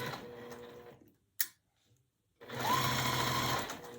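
Sewing machine stitching across pinned quilt pieces, a close whirring run that stops, a sharp click, a pause, then a second steady burst of stitching.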